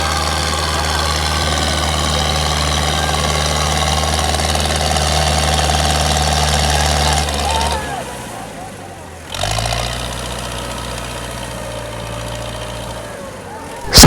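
A farm tractor engine idles loudly nearby with a steady low throbbing rumble, then drops off briefly before starting up and running again at a similar steady pace.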